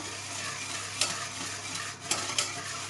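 Stirring sugar into a lemon tart mixture in a bowl, a steady close scraping swish with a few brighter clinks of the utensil against the side, no voices.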